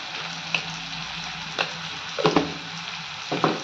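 Tomatoes sauté with salt in a pan for dal tadka, crackling in a loud, constant sizzle broken by a few sharp clinks and scrapes of stirring.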